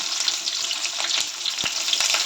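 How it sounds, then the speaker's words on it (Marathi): Sliced onion fries in hot oil with peanuts for rava upma, a brief, close, steady crackling sizzle broken by a few sharp pops. "थोडेसे शेंगदाणे झाल्यानंतर त्यावरती मी कांदा घातलेला आहे उभा चिरून."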